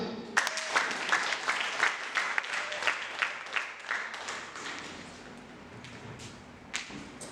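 A church congregation claps in a dense burst of applause that tapers off over several seconds, with a few scattered claps near the end.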